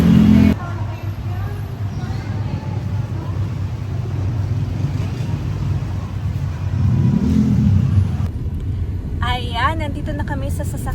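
A car rolls along with a family inside, its low, steady road rumble filling the cabin while people talk over it, ending with a few sharper noises near the close.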